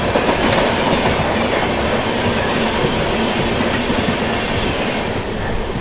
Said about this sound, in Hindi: ये गई अमृतसर बिलासपुर छत्तीसगढ़ एक्सप्रेस